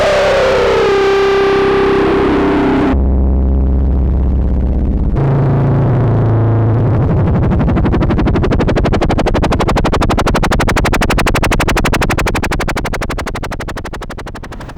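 A Moog Subsequent 25 analog synthesizer, heavily overdriven: first a gritty chord, then deep bass notes that shift into a buzzing, sweeping drone, loud and continuous.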